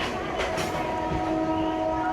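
An unreserved passenger train bound for Chengalpattu hums steadily with sustained tonal drones and faint rhythmic clatter of the carriages, heard close and continuous.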